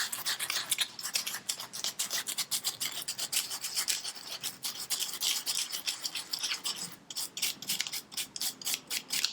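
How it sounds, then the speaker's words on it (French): Sandpaper rubs across a velvet suede shoe in quick, rhythmic back-and-forth scratching strokes. The gritty rasping is close and steady with no talk. "prendre le papier de verre et de frotter dans le sens des poils du velours"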